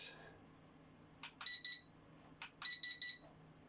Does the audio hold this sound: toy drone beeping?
yes